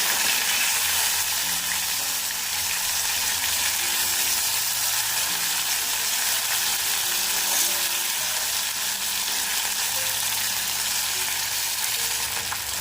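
Fish pieces, flipped over in the pan, fry in hot oil for a Bengali fish curry, giving a steady, close, unbroken sizzle with no talk.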